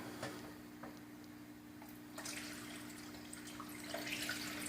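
Water is poured into a pump to prime it, a steady splashing trickle that swells louder partway through over a low mechanical hum.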